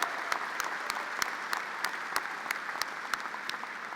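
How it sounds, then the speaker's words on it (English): An audience applauds graduates at a Virginia Tech graduate school commencement ceremony, with sharp scattered claps ringing out over a steady bed of clapping in a large hall. "Please join me in a round of applause for our graduates."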